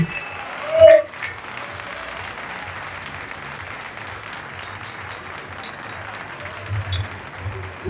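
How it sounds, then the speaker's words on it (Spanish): Applause from a crowd for junior kayak surfers at the closing ceremony of the Kayak Surf World Championships in Argentina, steady outdoor clapping at moderate distance with a brief louder sound near the start. "Fuerte el aplauso a todos nuestros juniors"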